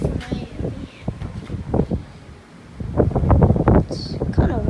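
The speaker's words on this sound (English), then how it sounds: "It's kind of windy, yeah, just see." Wind gusts across the open deck of the Oasis of the Seas cruise ship as it sails away from Miami, buffeting the microphone in loud, uneven rushes, with a short lull in the middle and faint voices nearby.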